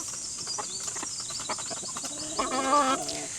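Free-range chickens on a Philippine farm cluck and murmur in a steady, close flock, with one bird's louder, drawn-out call rising near the end over a constant background hiss.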